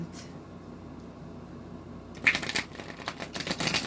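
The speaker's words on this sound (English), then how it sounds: "All right, one more shuffle." Tarot cards being shuffled by hand, a quiet rustle at first that turns into louder, rapid riffling bursts of papery flutter up close in the second half.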